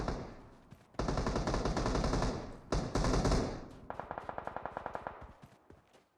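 Firefight in PUBG Mobile: loud bursts of automatic gunfire ring out in long sustained volleys, broken by short pauses, then give way to a rapid string of separate, fainter shots near the end.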